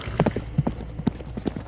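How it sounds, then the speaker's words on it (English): Mounted horse hooves clip-clopping at a canter in an Outlaws of the Marsh battle scene, a quick, close rhythmic patter of hoof strikes lasting under two seconds. "Lance erect, Zhao Ji kicked his horse and cantered towards Yang Ji."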